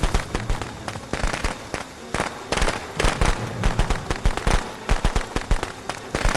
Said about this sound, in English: So the fireworks stun him